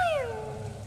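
A cat meows once in a Zelda video game, a short descending tonal cry that fades quickly over low background hum.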